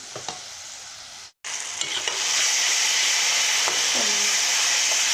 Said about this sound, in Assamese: এতিয়া এয়া বিলাহীখিনি ভাজি লৈছোঁ। ধুনীয়াকৈ বিলাহীখিনি ভাজি ল'ম